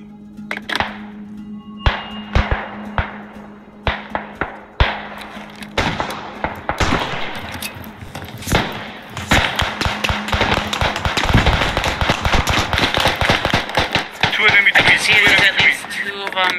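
Gunfire in the World War I shooter Beyond the Wire, defending as the Germans: scattered sharp shots and thuds that build into dense, rapid bursts of machine-gun fire, loud and close, with occasional voices.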